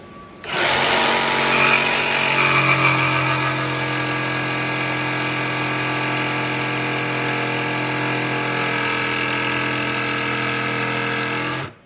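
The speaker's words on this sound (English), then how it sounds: "we're using a jigsaw just to make it a bit easier" A power jigsaw cutting compact laminate starts up and runs steadily for about eleven seconds, a loud buzzing whine that cuts off abruptly at the end.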